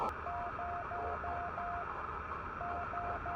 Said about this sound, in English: That's 5 dashes.